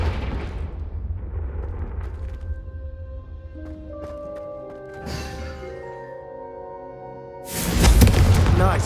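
Confringo spell cast at candelabras in Hogwarts Legacy: a hissing magical blast over a sustained musical score, ending in a loud, close burst of fiery noise.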